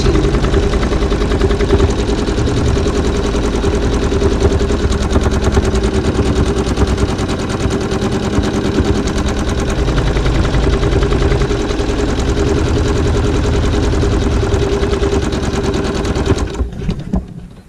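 Sewing machine stitching log cabin triangle quilt fabric runs as a steady, loud, rapid mechanical chatter for most of the stretch, then slows and stops at the end.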